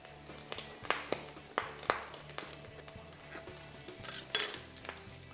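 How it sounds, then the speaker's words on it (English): Bacon fries in an oiled pan with a steady sizzle, broken by sharp pops and crackles that come every second or so, close and fairly loud. "You hear that bacon popping, that means we're almost there."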